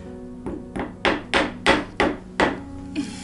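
Repeated hammer blows while mounting a large new LED chandelier indoors, about seven sharp strikes spaced roughly every third of a second, loud and close with no talk over them.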